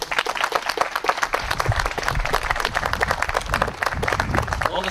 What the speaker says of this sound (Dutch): Dus ik zou eigenlijk een hartelijk applaus voor jullie zelf nu willen vragen.